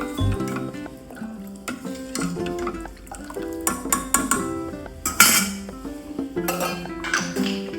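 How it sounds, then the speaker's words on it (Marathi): A spoon stirs drumstick soup in a metal pot, with repeated close clinks and scrapes against the sides in an uneven rhythm over soft liquid sloshing. "स्टर करूया."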